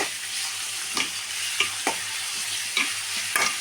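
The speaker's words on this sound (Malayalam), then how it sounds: "ഇഞ്ചി വെളുത്തുള്ളി പേസ്റ്റ്. നമുക്ക് ഇത് ഫ്രൈ ആയിട്ട് കിട്ടണം." Ginger garlic paste with curry leaves fries in a pan for a cauliflower and lentil curry, a steady close sizzle broken by several scraping stirs of a spoon, with a low hum underneath.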